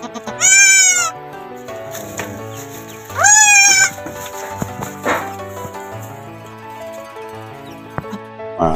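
Goats bleat on a farm right after a doe has given birth: two loud, drawn-out bleats about three seconds apart, with quieter rustling and faint animal sounds in between.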